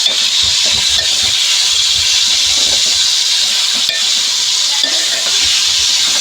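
Chicken salan cooking in a pot with ginger and garlic, a loud steady hiss and sizzle with soft stirring knocks and scrapes, close and continuous.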